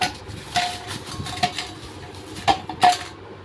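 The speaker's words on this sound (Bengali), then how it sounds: "আর এখানে মাছ এনে রেখেছে, মাছটা কাটবো।" Sharp metallic clinks and knocks ring out at irregular intervals as fish is cut in a home kitchen, each tap brief and close against a quiet background.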